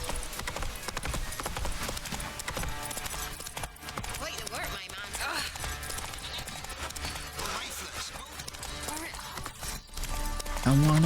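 The horse Roach gallops in a video game with rapid, rhythmic hoof clip-clops under continuous game sound, and a voice talks over the ride.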